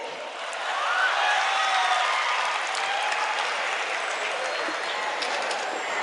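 A crowd at a mushaira poetry gathering in Hyderabad applauds continuously, a dense wash of clapping that swells in the first second and holds steady to the end.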